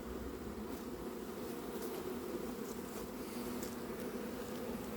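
A honeybee swarm buzzes steadily at a hive, a dense, continuous drone that holds at an even, moderate level for the whole stretch with no talking over it.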